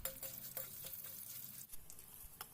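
Dried red chillies, curry leaves and asafoetida tempering sizzle steadily in a pan for tindora chutney, with repeated close scraping stirs of a spoon breaking through the continuous frying hiss.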